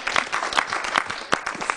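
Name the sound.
applause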